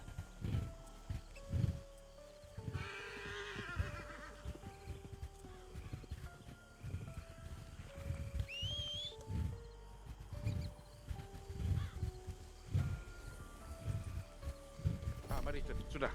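Horse hooves clip-clopping at a slow, irregular pace as the animal is let loose, moderately near, with people talking over it and a brief whinny.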